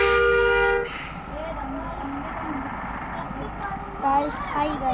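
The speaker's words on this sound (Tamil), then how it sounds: "ஹாரன் அடிக்கணும்னா" A vehicle horn gives one loud sustained toot that stops abruptly, followed by road and traffic noise and someone talking during a moving drive.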